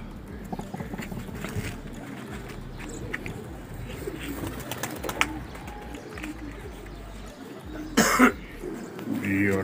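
Outdoor ambience at a pigeon-flying contest in Rawalpindi, with pigeons cooing and birds calling, a brief burst of flapping or rustle near the end, and faint voices in the background.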